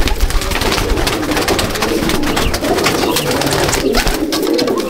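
Pigeons in a loft, Kagji Kalanka breed, coo continuously and loudly at close range, several birds overlapping in a dense, unbroken chorus.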